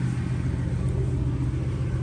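A 1966 Oldsmobile Toronado, a front-wheel-drive car, idles just after start-up with a steady, close, deep engine rumble that holds even and unbroken throughout.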